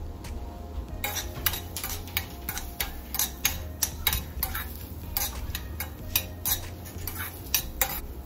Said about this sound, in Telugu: ఇప్పుడు క్యారెట్ ముక్కలు యాడ్ చేసుకుంటున్నాను. క్యారెట్ ముక్కలు కూడా కొంచెం సేపు ఫ్రై చేసుకోవాలండి.